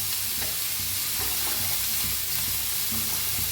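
Drumstick leaf vegetable (shevga bhaji) being stirred and mixed in a pan, with a steady sizzle and frying crackle under scraping strokes of the spoon.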